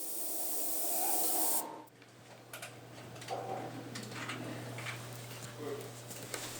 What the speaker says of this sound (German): Dann sprüht Alex mit schwarzer Farbe